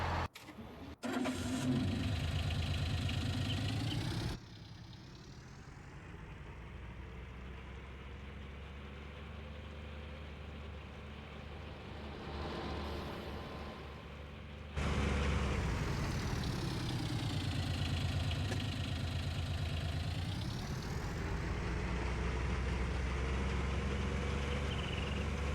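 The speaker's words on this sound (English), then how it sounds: "Big engine sound for a little vehicle." A small vehicle in the Farming Simulator 19 game with an oversized engine sound: a start-up, then a steady low idle that changes level partway through and grows louder again near the end, with no talk.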